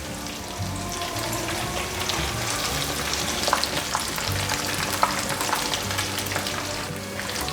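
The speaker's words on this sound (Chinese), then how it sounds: "现在继续让它炸" Tofu skin rolls wrapped around burdock deep-frying in oil, a continuous bubbling sizzle with a few faint clicks and pops from the pan, no talking.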